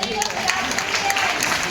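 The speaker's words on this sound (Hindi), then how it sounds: "ताली बजाओ।" Applause at a retirement farewell gathering, steady clapping from a group of people filling the whole moment with a dense, even patter.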